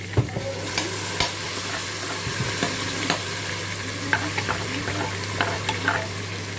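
Tomatoes and garlic frying and being stirred in a pan, with a steady sizzle under repeated scraping utensil strokes and light clicks against the pan, close and continuous, with no talk.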